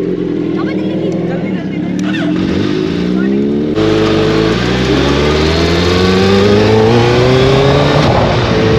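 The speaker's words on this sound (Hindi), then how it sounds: "मैं चला रहा हूँ उनकी न्यू हायाबुसा" A new 2023 Suzuki Hayabusa superbike with a loud exhaust revs up loud and close, its engine pitch climbing through repeated rising sweeps as the rider pulls away, with a voice talking over it.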